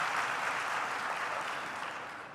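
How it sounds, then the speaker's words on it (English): Audience applause opening a conference session, a dense, even wash of clapping from a large crowd that holds steady and fades slightly toward the end. "Can we please give them a warm round of applause to begin the session?"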